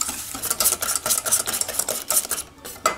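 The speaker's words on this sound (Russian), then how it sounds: "И начинаю хорошенько все перетирать. Яйца вместе с сахаром." Eggs and sugar are being beaten together in a bowl, making a brisk, close, rhythmic scraping and clicking of utensil strokes with brief pauses, and no voices.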